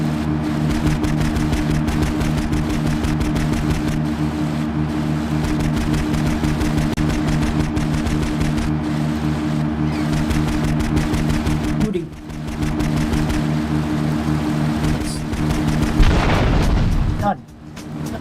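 Video game gunshots rapidly repeating over a dense, loud combat soundscape with a steady engine-like drone, continuing for a long stretch with a heavier boom near the end; a voice talks over it.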